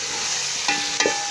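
Cumin seeds sizzle in hot oil in a pan for a lauki chana dal, a steady bright hiss with two quick stirring or utensil taps, close and with no talking.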